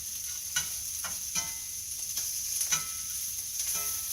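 Sausage hash browns in a hot pan with a steady, quiet sizzle. Several sharp scraping clicks of a utensil stirring it break in every half second or so.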